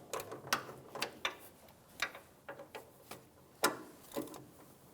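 A bolt on a Ford Expedition power steering return line being snugged down with a ratchet, giving a dozen or so sharp, close metallic clicks in an irregular rhythm, with no talk.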